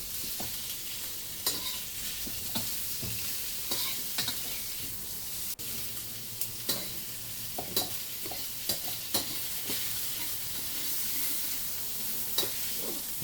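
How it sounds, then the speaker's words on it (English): Sliced skinless pork belly fries in a wok as its lard renders, a continuous close sizzle broken by scattered spatula clacks and stirring scrapes, with no talking. "Again, render the lard out of the pork."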